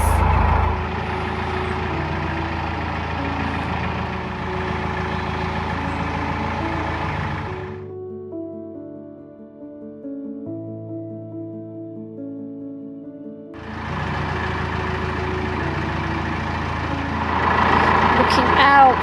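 A narrowboat engine runs with a steady low mechanical hum, now sounding smooth. It dips to a quieter stretch in the middle, then returns at full level.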